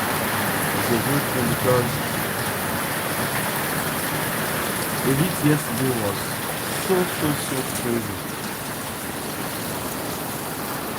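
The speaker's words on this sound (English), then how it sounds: "Me, I love the sound of the rain." Rain falls steadily in Gboko, a dense, even hiss of drops on surfaces heard close by, while a person talks intermittently over it.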